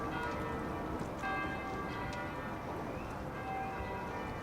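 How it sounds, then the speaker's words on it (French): Church carillon chimes at eleven o'clock, steady sustained bell tones ringing continuously at moderate distance over a dense background wash. "Le carillon de 11 heures."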